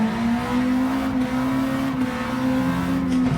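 Race car engine in the video game Gran Turismo 7 at Tsukuba, a loud steady drone held at a constant pitch, close and continuous with no talking.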